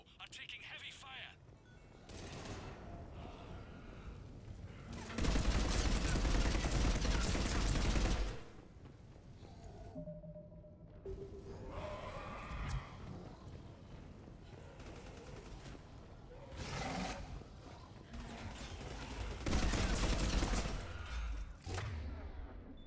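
Heavy gunfire in a Mass Effect 3 battle, with bursts of rapid shots and loud thumping blasts rising and falling across the scene, mixed under game dialogue and a player talking.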